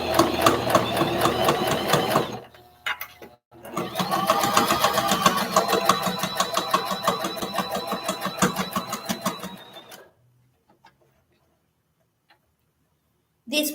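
Sewing machine stitching the seam of a boxy fabric bag with a tab sewn in: a steady rapid mechanical whir in two bursts, a short one then a longer run of about six seconds, stopping into near silence before a brief restart.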